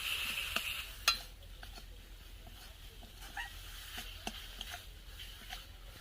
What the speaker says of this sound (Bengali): ভালো করে এটা নাড়াচাড়া করে নেব দিয়ে একটা ডো তৈরি করে নেব